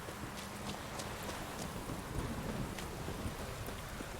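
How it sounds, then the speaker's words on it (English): A steady in-game rainstorm in The Witcher 3, with constant rain hiss and low rumbling underneath. Scattered sharp crackles and a faint rhythmic clopping run across the storm. "we've been hearing the storm constantly"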